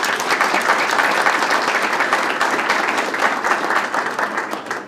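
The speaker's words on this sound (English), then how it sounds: "Please give him a round of applause" Audience applause at a P.E.A.C.E. Unit celebration, a dense steady wash of many hands clapping, loud and sustained throughout without a break.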